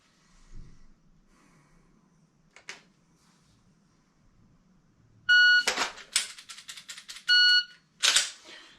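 A shot timer beeps during dry fire practice with a Heckler & Koch VP9 pistol, several short, loud electronic beeps in bursts after a quiet stretch, with faint clicks and handling noise earlier.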